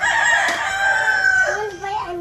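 A rooster crows loudly and close, one long drawn-out call that bends downward at the end, with chickens clucking faintly behind it on a farm.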